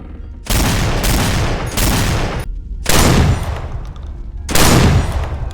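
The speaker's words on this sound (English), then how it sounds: "I like how the guns sound overdramatic, but like in a good way." Exaggerated, booming gunfire from Left 4 Dead 2 with the Nightmare mod, loud heavy bursts of automatic fire in four long stretches separated by brief pauses, with no talking.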